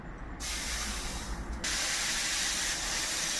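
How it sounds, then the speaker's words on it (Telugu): Dosa batter hits a hot pan and bursts into steady loud sizzling, the hiss jumping up at the pour and again moments later, then holding as a constant close spray-like crackle. "దోశ పోసుకుందామండి"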